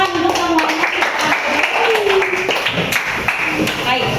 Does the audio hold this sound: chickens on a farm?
no